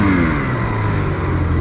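Snowmobile engine revving hard at full throttle, a loud, sustained close-up roar with steady harmonic drone and no talk.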